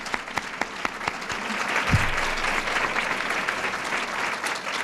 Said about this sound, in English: let's give Holly and the entire committee a big round of applause